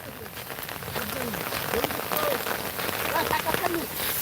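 Steady rain falls in Kurigram's Phulbari, a dense, continuous hiss of drops pattering on surfaces close by, loud and unbroken throughout.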